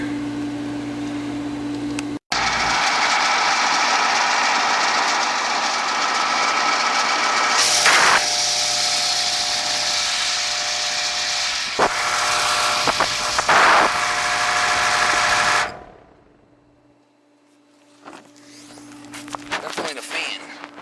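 A noisy Aqua Comfort pool heat pump with a fan fault runs with a loud steady whirring hum and rattling, then cuts out abruptly before a faint restart, with someone speaking intermittently.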